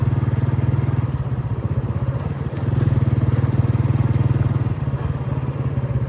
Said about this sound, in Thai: เดี๋ยวขี่รถกลับคืนก่อนทุกคน